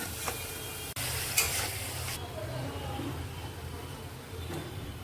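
Eggplant goes into a pan of spiced masala with sour yogurt and oil, a sudden clatter and burst of sizzling followed by a quieter bubbling fry as it is stirred, with a voice talking faintly at times.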